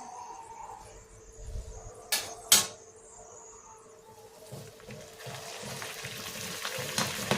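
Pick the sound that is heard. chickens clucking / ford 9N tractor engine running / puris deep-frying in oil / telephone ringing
puris deep-frying in oil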